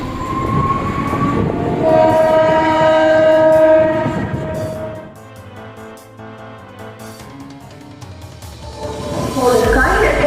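Local train at Santragachi junction railway station, its horn sounding in long, steady blasts over the rumble of the rails, loud and close, with a fresh burst of noise near the end.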